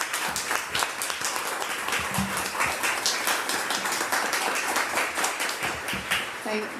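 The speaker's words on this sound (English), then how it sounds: "Can we get a round of applause for Patty, Allison, Andre, and Stevie?" Audience applause for a panel of speakers at an event on child poverty and early childhood: dense, steady clapping from many hands that keeps up at an even level for the whole stretch.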